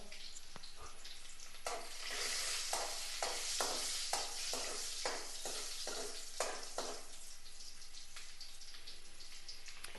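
Chopped garlic fries in a pan, a soft, fairly faint crackling sizzle broken by a run of rhythmic stirring scrapes that fade out toward the end.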